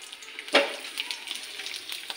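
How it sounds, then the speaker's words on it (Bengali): Crackly sizzling as black cumin seeds and chopped garlic hit hot oil in a pan, a sharp burst of spitting followed by lighter, irregular pops, close and moderately quiet. "এবার আমি এখানে দু চামচ কালো জিরে দিয়ে দিলাম, তার মধ্যে দিয়ে দিলাম রসুন কোটা"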